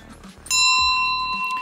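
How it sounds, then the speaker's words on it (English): A cow bell worn around the neck in Grindelwald, Switzerland gives a loud, bright metallic clang with a sustained ringing tone, up close, and soft low sounds of movement come just before it. "The cow's bells around your neck."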